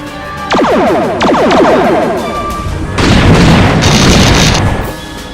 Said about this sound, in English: Photon torpedoes. Target our last known course and speed. Full spread. Fire!